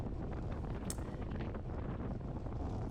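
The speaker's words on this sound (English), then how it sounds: "it did get pretty windy, and this section here is a pretty stiff headwind here." Steady, heavy headwind buffeting a microphone outdoors during a bicycle road race, a constant low roar with gusty swells throughout and no voices.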